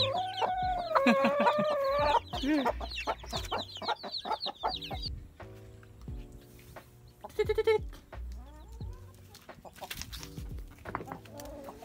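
Chickens cluck and call in a busy farmyard, with repeated harmonic clucks and squawks overlapping, other animal bleats mixed in, fairly close and steady throughout.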